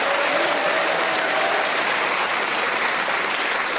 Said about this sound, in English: A round of applause for them, for their contributions